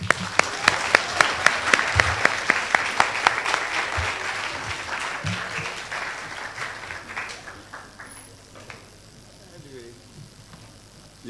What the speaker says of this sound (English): Clap him.